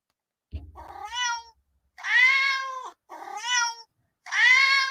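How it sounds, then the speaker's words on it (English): Cats meow in four distinct calls, with short pauses between them, clear and fairly close, with no voices or other noise around them. "There's the cats. Okay, yep, those are the cats."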